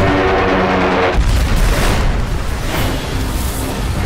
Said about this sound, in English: The largest explosion in the ship's storied history shakes her from bow to stern.